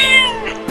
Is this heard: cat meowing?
yes